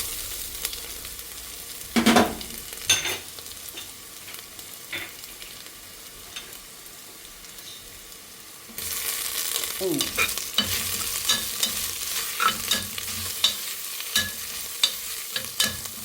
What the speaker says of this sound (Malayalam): ഇനി നമുക്കിതിലേക്ക് ഇഞ്ചി വെളുത്തുള്ളിയൊക്കെ ഇട്ടുകൊടുക്കാം.